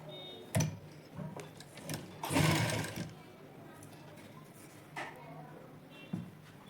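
A sewing machine makes a few brief, fairly quiet bursts of stitching as lace is sewn onto a jointed sleeve, with quiet gaps and small handling noises between them.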